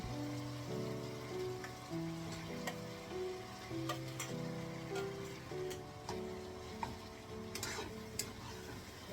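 Fried eggplant pieces tipped into spices frying in oil, a soft continuous sizzle with ticking spatula stirs and clinks against the pan, with a steady tonal hum underneath.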